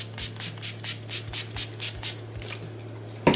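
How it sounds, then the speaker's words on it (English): NYX Matte Finish setting spray misted onto a face in a steady series of about a dozen quick, evenly spaced hissing spritzes, close and crisp over a low background hum. "I'm just gonna quickly spray my face with the NYX Matte Finish"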